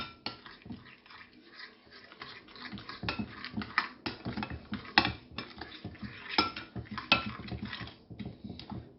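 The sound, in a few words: mixing Russian salad with white pepper in a bowl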